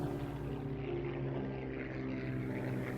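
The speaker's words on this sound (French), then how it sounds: "Des avions survolaient et mitraillaient les colonnes de prisonniers." Propeller aircraft drone overhead, a steady, moderately distant engine hum with buzzing harmonics that stays even for about three seconds with no voices.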